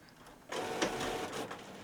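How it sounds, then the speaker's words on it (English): A Canon PRO-310 photo printer whirs and clicks as it prepares to print from the rear feed slot, a quiet start followed by a steady mechanical whirr with a few short ticks, close by and alone. "being a printer, it's got loads of whirring and things to do first"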